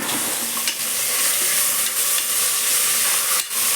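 Onions and tomatoes sauté in a pan for a spicy mutton curry, giving a loud, dense, steady sizzle with brief stirring scrapes.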